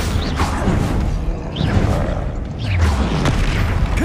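Spell-casting blasts from the video game Hogwarts Legacy land as a rapid string of heavy booms and swooshes, dense and loud throughout.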